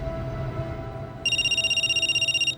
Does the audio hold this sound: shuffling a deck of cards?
no